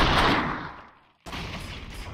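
Gunfire in the virtual reality game VRChat: a loud burst of shots fades out, then after a brief silence a second dense volley starts abruptly and keeps going, with no talking.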